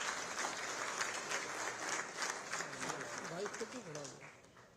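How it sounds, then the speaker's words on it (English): Audience applause at an India-Israel business forum, a broad steady wash of clapping that carries through the whole moment, with a voice speaking over it near the end. "Can we have a round of applause for this, please?"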